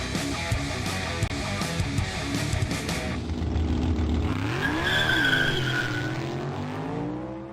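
Team Associated RB10, a 1/10-scale two-wheel-drive ready-to-run RC buggy, runs on a track with steady high motor whine, tire scrubbing and skidding, and the pitch sweeping up and down as it accelerates and turns.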